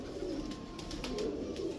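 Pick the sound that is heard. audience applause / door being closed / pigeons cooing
pigeons cooing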